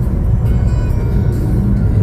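Road traffic in the late afternoon, a dense low rumble of cars rolling past close by, steady and continuous with slight swells as vehicles go by, heard from a moving rider's position with no talking.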